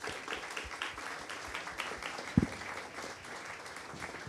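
An audience at a public conversation on ecosocial energy transition applauds steadily, a dense patter of many hands clapping at moderate volume, with one louder knock partway through.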